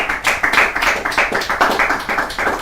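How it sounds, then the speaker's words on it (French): A few people clapping in a French political assembly, a short burst of loud, uneven claps in a choppy rhythm, close and alone without talk. "je pensais qu'on allait applaudir"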